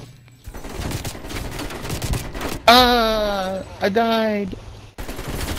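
Gunfire in the multiplayer shooter Call of Duty: Black Ops Cold War, rapid loud shots in a short burst amid game sounds, with someone speaking briefly and an in-game voice partway through.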